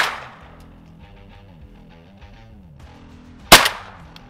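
A single sharp gunshot cracks out during a hunt in Mexico, loud and close, following a quiet stretch of low background noise.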